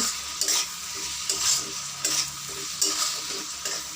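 Tamarind pulp being stirred into a pan of capsicum pickle, a spoon scraping in steady rhythmic strokes about every half second over a soft background sizzle, close and clear with no talking.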